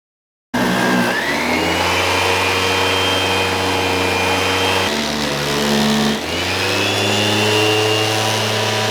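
An old central vacuum power head spinning on thick shag-like carpet, a loud continuous motor whine and brush drone that briefly dips and rises again, close and steady throughout.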